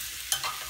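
A steak is flipped in a hot pan, giving a sharp scrape and a brief flare of sizzling over a steady frying hiss, all close and fairly loud.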